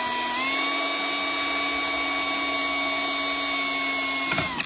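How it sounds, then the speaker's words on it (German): A high-pitched drill whines steadily for several seconds, boring a small drain hole into a hard plastic car tail light, then winds down with a brief clatter at the end. "Ihr bohrt einfach irgendwo an die Seite oder von unten ein kleines, aber effektives Loch rein"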